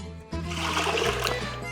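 Lukewarm water pours into a bowl for baguette dough, a steady close splashing gush that starts abruptly and keeps running over a faint low hum.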